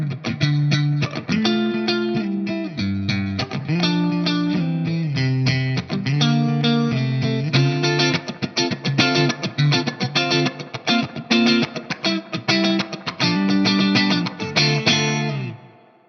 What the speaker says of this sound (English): you really hear the response when I play the low notes and kind of go for that raked muted thing